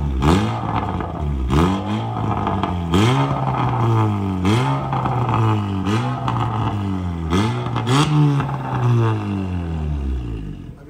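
A Honda City car with a valvetronic exhaust is revved repeatedly, about ten rising engine pulls that swell and drop back in a steady rhythm, loud and close with no talking.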